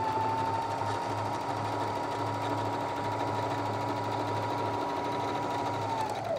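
A sewing machine stitches around the edge of a fat-quarter fabric napkin, giving a close, steady whirring hum with a rapid mechanical rhythm that runs for several seconds before winding down at the end.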